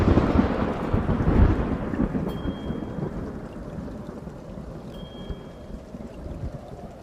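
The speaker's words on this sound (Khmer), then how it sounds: "យប់នោះភ្លៀងខ្យល់បោកបក់ខ្លាំងគួរឲ្យខ្លាចធម្មជាតិទាំងមូលហាក់រង្គើញ័រក៏ក្រើកដោយស្នូររន្ទះជាច្រើនលើក" Heavy rain and wind roar through a stormy night, a dense continuous wash with low rumbling thunder swelling early on, loud and close, with no voices.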